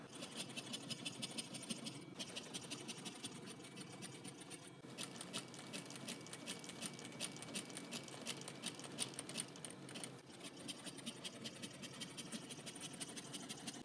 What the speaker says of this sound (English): This is sewing a label in horizontally on an inside seam.